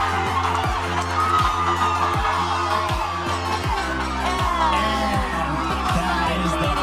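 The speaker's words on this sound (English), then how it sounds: "The crowd is on their feet." A crowd roars and cheers at a women's combat sports bout in the frantic final seconds of a co-main event, a loud sustained din over pounding arena music, with a commentator talking over it.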